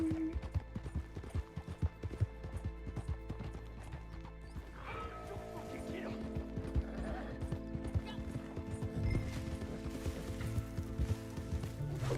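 Horse hooves clip-clop in Red Dead Online, with a horse neighing and whinnying among the steady hoofbeats over a game soundscape, all fairly quiet.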